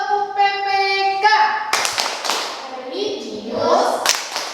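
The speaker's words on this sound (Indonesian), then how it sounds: "Tepuk PPK." A classroom of children chants in unison, then claps in a rhythmic classroom clapping routine. Sharp, loud claps break through between the group's chanted lines.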